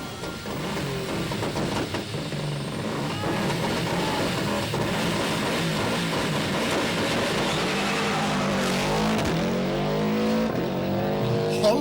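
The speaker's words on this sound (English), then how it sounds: "Here comes Bertie Fisher and Rory Kennedy in the Toughback Subaru Impreza." Subaru Impreza rally car on a stage of the 1997 Circuit of Ireland rally, its engine roaring loudly and continuously as it passes close by, with rising and falling pitch near the end.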